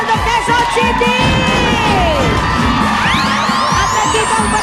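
A live studio audience group from a barangay in Bulacan cheers, whoops and shouts loudly and continuously on a Filipino noontime variety show, a dense wall of crowd noise with rising whistle-like calls throughout.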